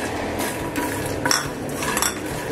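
Roasted chana dal and peanuts are stirred together in a pan for a makhana snack, a spoon scraping and clinking against the metal with a steady rustle of dry pieces tumbling, close and fairly loud.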